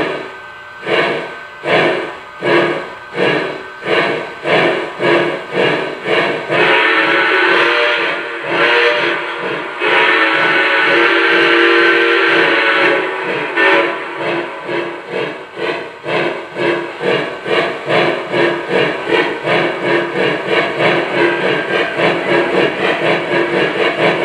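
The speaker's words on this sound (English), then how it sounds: "Smoke unit puffs in sync with the chuffing sounds. and this is consistent through all speed steps." Lionel Legacy 4-6-2 Pacific Southern Crescent model steam locomotive with a smoke unit, giving loud rhythmic chuffs that quicken steadily, while a sustained steam whistle blows over them in a couple of long blasts midway.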